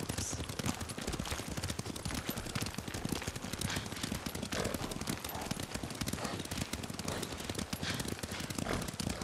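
Horse hooves clip-clop steadily as a rider travels on horseback in the video game Ghost of Tsushima, set in feudal Japan, mixed with dense game ambience and a brief spoken word.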